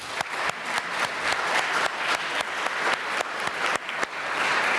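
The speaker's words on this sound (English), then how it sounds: "I would like to ask you, the audience, for the big applause for the panelists" Audience at an international intellectual property conference gives panelists a round of applause, steady dense clapping filling the room throughout with no speech over it.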